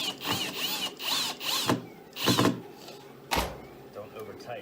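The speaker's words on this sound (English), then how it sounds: "Self-tapping, so I don't have to drill it." A power drill drives a self-tapping screw into a prop backpack build. It whirs in several short, loud bursts with rising and falling pitch, separated by brief pauses, up close.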